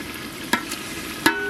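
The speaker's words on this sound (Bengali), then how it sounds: "এবার তুমি চিকেন চাপের চিকেনগুলো ভেজে নাও" Chicken pieces for chicken chaap frying in oil in a pan, a steady close sizzle with two sharp stirring clatters of a utensil against the pan.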